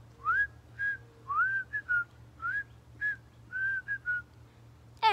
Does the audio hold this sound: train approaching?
no